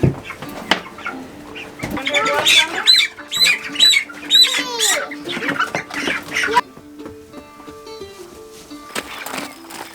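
Poultry cluck and squawk up close in busy overlapping calls, with chirpy peeping mixed in, trailing off into quieter chatter.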